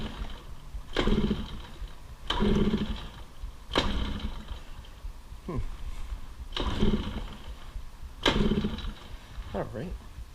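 A Yamaha PW50 dirt bike's small engine is cranked with the choke on in about seven short, evenly spaced bursts that sputter without settling into a run, with a voice talking between attempts.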